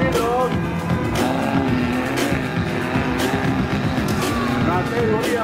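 Six-cylinder category race cars roar continuously at close range, with engines droning steadily throughout and a race announcer speaking over the noise.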